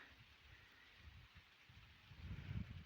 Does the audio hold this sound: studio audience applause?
no